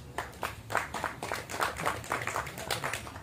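Scattered applause from a small audience at a Tamil film audio and trailer launch press meet, a few seconds of thin, uneven clapping with no speech over it.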